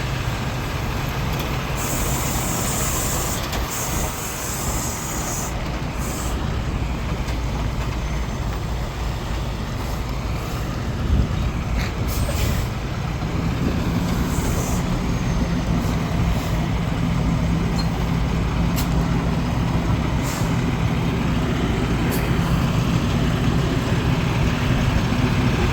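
A semi truck at a PAM truck yard rumbles as it slowly backs toward a parking spot, a continuous heavy diesel idle with occasional hisses and clanks and brief bright beeps up close.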